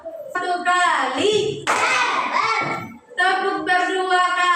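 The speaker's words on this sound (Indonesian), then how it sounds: "Tepuk berdua kali. Tepuk bertiga kali. Tepuk berempat kali. Tepuk berkali-kali." Children play a counting hand-clapping game, their sing-song chanting voices carrying over hand claps in a bouncy rhythm, close by, with a brief pause partway through.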